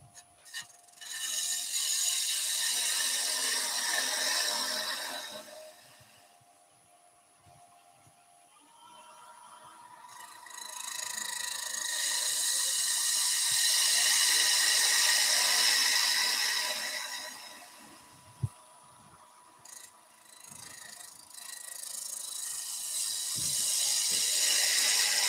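A gouge cuts wood on a lathe with its bevel rubbing while a German smoker figure is turned, giving long rasping, shaving passes that swell and fade in several sustained sweeps over a steady hum, with no talking.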